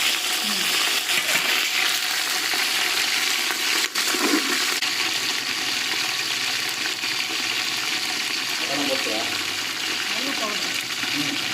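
Mint leaves frying in hot oil for seeraga samba biryani in a home kitchen, a continuous loud sizzle with faint voices talking in the background.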